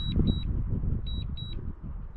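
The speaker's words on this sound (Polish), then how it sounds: "Ten y, sygnał, co słyszycie, to znaczy, że teoretycznie dron powinien do mnie już wracać." A drone's return-home warning beep outdoors, short high-pitched electronic beeps in pairs repeating over loud low wind rumble.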